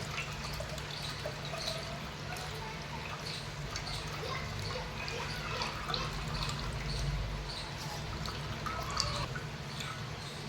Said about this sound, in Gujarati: આ રીતે આપણે દબાવીને બધું પાણી કાઢી લઈશું